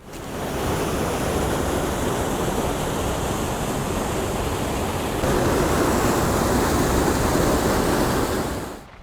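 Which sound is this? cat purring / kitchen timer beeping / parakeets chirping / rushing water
rushing water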